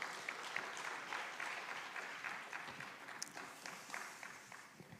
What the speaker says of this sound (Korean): 우리 보내어 주신 하나님께 감사의 박수로 맞이하겠습니다